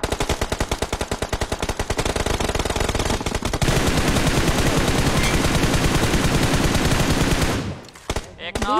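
Video game gunfire: dense, rapid machine-gun bursts rattle loudly and continuously, then a steadier automatic stream follows before stopping near the end, with a brief voice under the shots.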